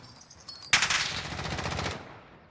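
Rapid automatic gunfire from a weapon in a video game, a sharp burst that rattles on for over a second and then tails off, heard fairly faintly with no talk over it.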